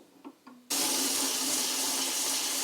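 Warm tap water suddenly gushes into an ultrasonic cleaner tank after a few soft clicks, then keeps pouring as a loud, steady hiss with no talking.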